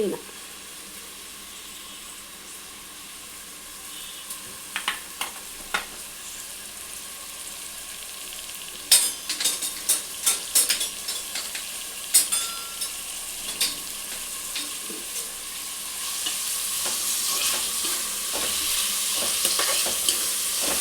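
Chopped onions and mint fry in hot oil for a chicken gravy, sizzling softly and steadily while a spoon scrapes and clatters in the pan in irregular bursts of stirring.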